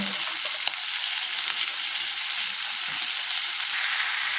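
Fried mixed vegetables being stirred in a hot pan give off a continuous, even sizzle at moderate volume, with a few faint scrapes and no voices.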